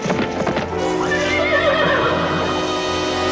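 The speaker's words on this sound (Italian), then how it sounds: "La principessa udì in lontananza il galoppo di un cavallo." A horse gallops with rapid, close hoofbeats, then lets out a long, loud neigh that carries over the rhythm, part of a dramatic cartoon-style scene with no talking.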